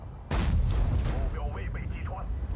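Tank cannon firing in World of Tanks: one heavy, close boom followed by a rumbling tail, with a voice talking over it.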